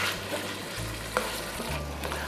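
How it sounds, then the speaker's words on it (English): Ground meat sautéing in a pan for a no-bake cheese and meat sauce pasta, a steady close sizzle with the scrape and clatter of stirring. "Okay, so you just saute it."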